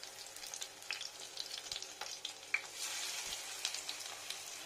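Pumpkin flower pieces with green chilli, dipped in gram-flour batter, deep-fry in hot oil with a continuous soft crackle and sizzle and scattered pops. No one speaks.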